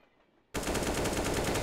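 Kalashnikov rifle fire in Counter-Strike: Global Offensive, bursting in suddenly after a quiet moment as a loud, sustained rapid-fire stream of shots.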